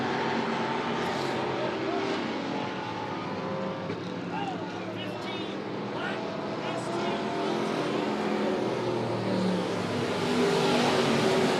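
Dirt track race cars roar continuously around the track at Monett Motor Speedway in a close, hot race, engines droning and swelling loudly under a crowd and an announcer talking over the action.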